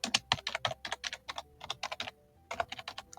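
Someone types quickly on a computer keyboard, crisp close key clicks in rapid bursts with a brief pause near the middle, quiet and without talk.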